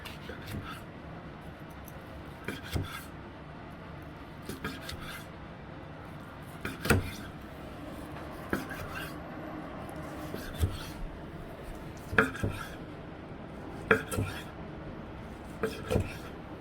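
A knife cuts cooked steak on a plate in repeated slanted strokes, soft scraping rubs punctuated by sharp taps of the blade meeting the plate, spaced irregularly and fairly close.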